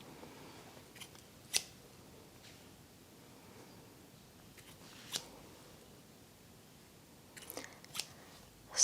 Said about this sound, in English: My scissors here, and we're going to begin with some energy cutting